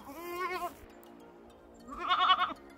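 A goat bleats twice while eating, mouth full of food, on a farm: a wavering nasal call up close, a short pause, then a second, louder bleat.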